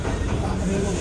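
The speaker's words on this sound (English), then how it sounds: "This is a Brooklyn-bound C local train." Brooklyn-bound C local subway train running through the tunnel under the East River, a steady close rumble of wheels and car noise filling the clip with faint voices mixed in.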